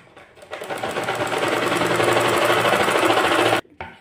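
A sewing machine runs a quick burst of stitching along a kurti sleeve, its motor whirring steadily and close for about three seconds before stopping abruptly, followed by a brief click.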